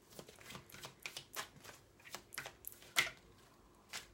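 Tarot cards are handled and laid down as soft, close shuffling and flicking sounds in irregular bursts, with one sharper snap of a card near the end and quiet pauses in between.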